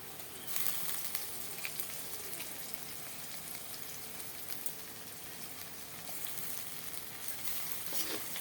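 Onion, ginger-garlic paste and curry leaves frying in a pan, a faint continuous crackling sizzle with a few soft stirring sounds, no voices.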